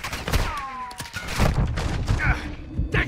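Bursts of gunfire in the Call of Duty DMZ video game crack in quick succession amid game sounds, with voices talking over the shooting.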